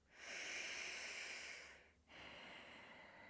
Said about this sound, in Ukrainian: Дуже корисне дихання. Продовжуємо ще кілька циклів.